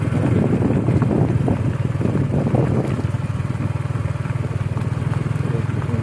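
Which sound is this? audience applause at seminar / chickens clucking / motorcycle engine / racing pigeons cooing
motorcycle engine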